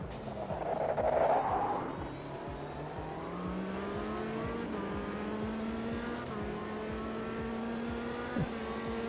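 A GT3 Porsche race car's engine in Automobilista 2, revving hard and climbing through the gears with a steady, close, buzzing drone, plus a brief tire-squeal-like swell near the start.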